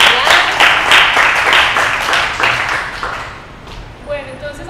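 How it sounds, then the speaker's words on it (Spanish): An audience in a talk on botany claps for the speakers, a dense burst of applause that fades over a few seconds into a few scattered claps. "un aplauso para ustedes."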